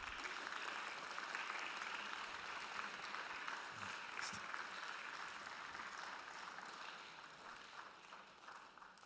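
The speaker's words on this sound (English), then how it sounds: "Let's give that a round of applause." Faint, distant applause from a conference audience at an international world harmony event, a soft steady clatter of clapping for several seconds that tapers slightly toward the end.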